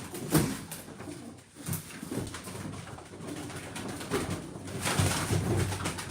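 Pigeons kept in a loft: repeated soft cooing from several birds at close range, with faint rustling and background clatter throughout.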